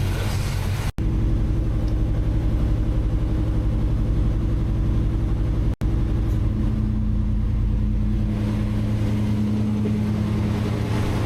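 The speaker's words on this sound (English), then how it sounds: "we have to run our idle up to 1500 RPMs" A car engine held at a raised idle of about 1500 RPM, its throttle tied back with wire while a vintage air-conditioning system is serviced, gives a steady, close, continuous rumbling hum with no talk.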